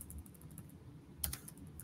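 Typing on a computer keyboard, a quick run of light close key taps with one sharper click near the end, quiet and alone.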